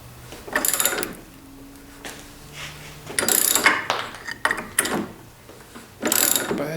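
Dirty, gummed-up threaded nut being unscrewed from a 1944 Delta wood lathe during teardown, giving scraping, ratcheting metal bursts in several uneven clusters, fairly close, with no talking.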